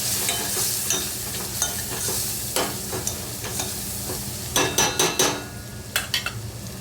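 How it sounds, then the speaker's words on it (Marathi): Spices and turmeric sauté in hot oil for Maharashtrian kadhi, with a continuous close sizzle broken by repeated sharp scrapes and clinks of a spoon stirring against the pan. "आता हे सगळं व्यवस्थित परतून घेऊया।"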